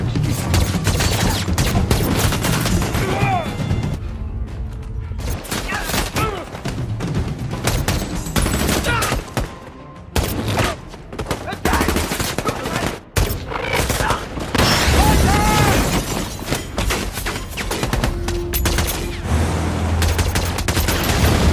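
Sustained gunfire from a film shootout as troops storm a hideout, dense bursts of automatic fire and booming shots running nearly continuously, loud and close, with brief lulls and a faint voice now and then.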